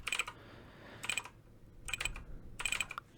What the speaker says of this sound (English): And just type the credit card number again.